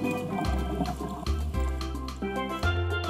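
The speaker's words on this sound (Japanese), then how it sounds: "ダイバーたちが次々と海の中に潜っていきます。" Divers entering the sea one after another during an underwater cleanup off Numazu, heard as muffled bubbling and gurgling water with repeated low thumps and splashy surges, moderately quiet.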